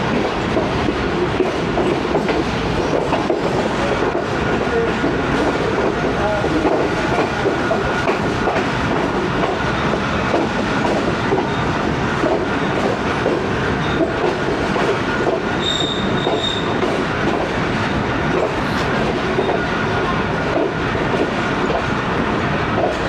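The Tezgam train rolls into Jhelum railway station with loud, continuous rumbling, clattering wheels and occasional squeals of steel on rail, close and unbroken for over twenty seconds.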